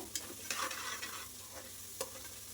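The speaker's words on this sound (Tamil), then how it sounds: "இதையும் எண்ணெயிலேயே நல்லா வந்து வணக்கி விட்டோன்னா நல்லா வாசனையாக இருக்கும்" Chili powder sautés in oil while being stirred, a quiet close sizzle broken by a few distinct scraping strokes of a spoon against the pan.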